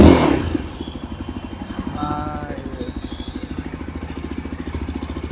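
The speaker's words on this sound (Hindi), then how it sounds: "देखिए इंजन RPM कैसे बढ़ रहे हैं" Royal Enfield Himalayan motorcycle engine running close by with a steady rapid thumping pulse, revving as RPM climbs, with a brief burst of mechanical clatter near the start.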